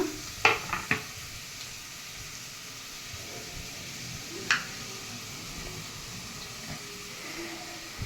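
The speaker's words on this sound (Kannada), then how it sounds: "ಈರುಳ್ಳಿ ಚೆನ್ನಾಗಿ ಫ್ರೈ ಆಗಲಿ" Onions frying in a pan for a quick masoor dal tadka, giving a steady, fairly faint sizzle throughout, with a few short utensil clinks and stirring taps near the start and around the middle.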